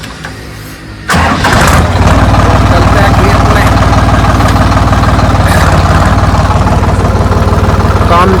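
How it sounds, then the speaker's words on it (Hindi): A diesel farm tractor cranks and starts with a sudden loud catch, then settles into a steady, heavy, rumbling idle up close. Someone speaks briefly over the engine. "ट्रैक्टर स्टार्ट करके"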